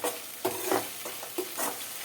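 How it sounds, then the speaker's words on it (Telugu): Onions frying in a pan, a soft steady sizzle with occasional stirring scrapes, close and fairly quiet. "సో ఉల్లిపాయలు వేగుతున్నాయి."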